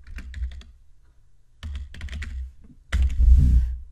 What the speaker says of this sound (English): key in the password.